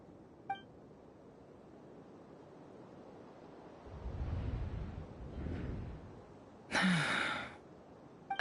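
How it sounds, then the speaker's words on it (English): A Genshin Impact character gives a short, sharp breathy gasp near the end of a quiet stretch that holds soft rushing air noise. "I heard Yehuda gasp"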